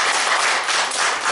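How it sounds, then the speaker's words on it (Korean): A church congregation applauds, a dense, steady clatter of many hands clapping together indoors, loud and continuous throughout. "큰 박수 한번"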